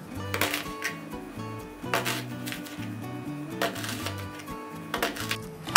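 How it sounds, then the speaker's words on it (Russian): A knife finely chops onion for Turkish pide with quick, rhythmic taps on a board, heard under steady background music. "Мелко шинкую репчатый лук."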